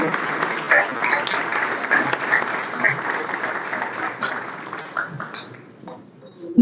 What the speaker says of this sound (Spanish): Y acá es donde realmente los aplausos se escuchan de corazón